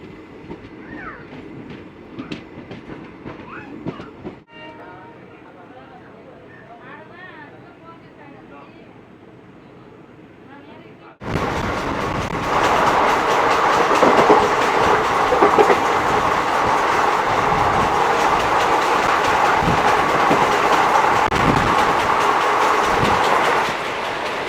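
A Palakkad Town–Trichy Express pulls out of Kodumudi station, heard from on board: quiet at first, then a sudden jump to loud, dense rolling clatter and wheel noise that carries on steadily, with faint voices in the background.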